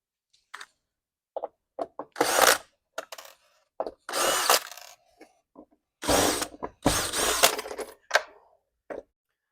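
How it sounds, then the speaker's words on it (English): A cordless drill spins out the hardware on late 1977–1982 C3 Corvette glass T-tops. It runs in a series of loud, short whirring bursts separated by brief pauses and a few small clicks, with no talking. "I'm going to be using a cordless drill just to expedite the process for video purposes."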